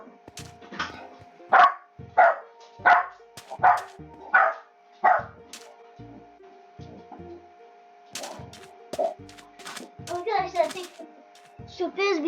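A dog barks in a steady run of about seven evenly spaced, loud barks, pauses briefly, then gives a busier burst of yips and barks toward the end.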